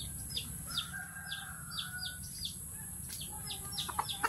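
A chicken being chased and caught for cockfighting gives a quick series of short, high clucks and squawks, faint and a little distant, over steady outdoor background noise.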